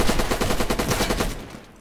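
Rapid automatic gunfire in Red Orchestra 2, a close, loud burst of evenly spaced shots that lasts over a second before fading out.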